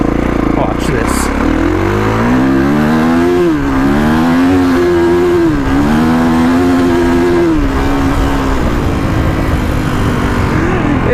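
A 2021 Kawasaki KX450X dirt bike pulls hard at full throttle, its loud, close engine roar climbing and dipping in pitch through steady acceleration without a break.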